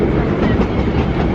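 A New York metro train rumbles loudly and continuously nearby, with a dense low roar and faint clattering over the rails, and no voices on top.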